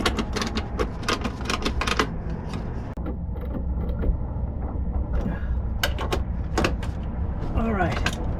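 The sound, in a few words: ratcheting closed box end wrench tightening battery terminals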